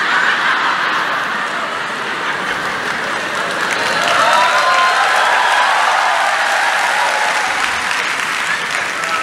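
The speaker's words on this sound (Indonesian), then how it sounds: "Tepuk tangan buat apa itu?" A church congregation applauds during a sermon, a sustained wash of many hands clapping at once, loud and even throughout with faint crowd murmurs mixed in.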